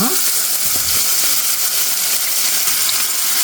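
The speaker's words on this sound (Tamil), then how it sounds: "இதில் வெங்காயமும் பூண்டும் ஒன்றா போட்டுடுங்க கொஞ்சம் வதங்கட்டும்" Onions and garlic fry with asafoetida over a medium flame, a loud, dense, continuous sizzle close by with no breaks.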